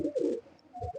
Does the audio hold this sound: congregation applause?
no